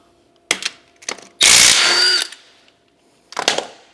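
Bolts coming out of a Ford F100 with a Coyote engine, a power tool or ratchet giving short bursts and one longer whirring run, close and loud with quiet gaps between.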